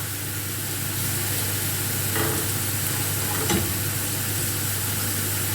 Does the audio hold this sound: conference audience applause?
no